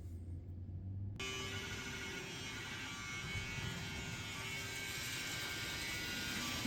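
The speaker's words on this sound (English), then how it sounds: "if I can hear it picking up bits of ballast in the vacuum." A model railway vacuum track-cleaning wagon's small motor starts abruptly with a whirring buzz, then runs steadily and loudly with a continuous drone and faint rattling of ballast being picked up.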